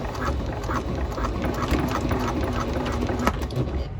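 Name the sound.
sewing machine stitching a bag's folded edge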